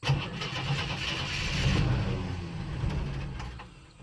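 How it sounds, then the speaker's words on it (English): A 1976 postal Jeep, parked for years in the woods, cranks and catches, its engine churning and rising in a rough, uneven run-up before easing off, heard up close with no voices. "let's give it a crank and see if we can drive around"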